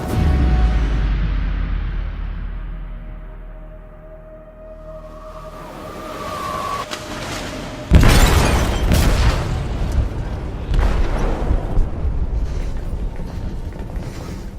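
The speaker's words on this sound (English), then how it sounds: "They detonated an explosive in the hold. The ship is sinking, sir." A ship's hold explodes in Detroit: Become Human with a sudden heavy boom, then rumbling blasts and crackling debris. Low mechanical drones and a hum sound beforehand, and no one speaks.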